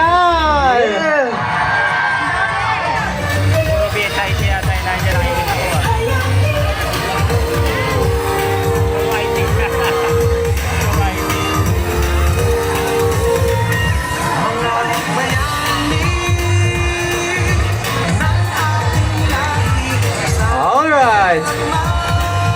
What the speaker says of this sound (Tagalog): Parinig naman ang sigawan ng mga taga-STI